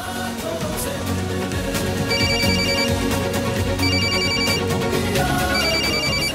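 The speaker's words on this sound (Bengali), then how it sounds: "ছাবড়া বারবার ফোন করছে" A phone ringtone plays loudly in a repeating melodic pattern, its cycles recurring every couple of seconds over a busy background.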